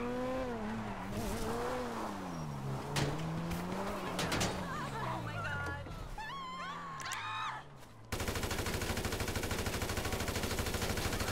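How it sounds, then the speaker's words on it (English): In Grand Theft Auto V, rapid automatic gunfire rattles as a dense burst of sharp repeated cracks, following stretches of engine whine and wailing, swooping tones from the game. "I think cops heard all the gunshots and they're chasing"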